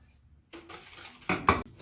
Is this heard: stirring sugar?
yes